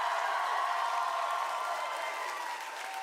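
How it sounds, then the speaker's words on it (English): A large concert crowd at a live show applauds and cheers in a dense, steady roar of clapping that holds throughout and eases slightly near the end. "let's give a round of applause to them for us"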